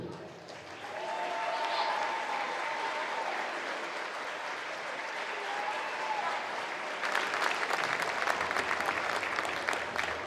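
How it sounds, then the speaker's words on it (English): Steady applause from a large crowd fills an echoing school gym at a boys varsity basketball game, sustained throughout and swelling slightly louder toward the end. "One more round of applause for our basketball seniors."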